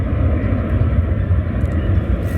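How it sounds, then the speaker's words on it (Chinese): A Turkish Boeing 787 landing at Guangzhou airport, heard as a steady, loud low-frequency jet roar that holds evenly throughout with no talk over it. "34分钟以后，土耳其787落地了"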